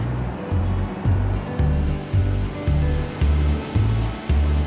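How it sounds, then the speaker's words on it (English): A tea processing machine finely chops and flattens tea leaves, a loud close mechanical roar with a steady pulsing low thump repeating about twice a second. "This machine finely chops and flattens the leaves."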